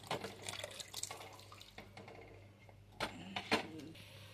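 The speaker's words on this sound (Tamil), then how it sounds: "இப்போ தண்ணி நல்லா கொதிக்க ஆரம்பிச்சிருச்சு" Soft bubbling and burbling of water coming to a boil in a pot, with irregular pops and small splashes, fairly quiet and close.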